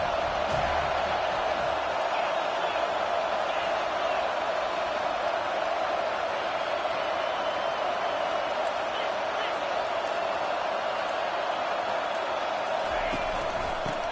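In a college football video game, a stadium crowd keeps up a steady, even roar throughout. A broadcast commentator talks over it.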